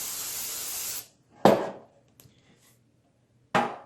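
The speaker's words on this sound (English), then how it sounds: "spray the pan" Cooking spray hisses onto a bread pan in a home kitchen: a long close spray burst, a pause, then a sharp clatter and another short spray, with quiet gaps in between.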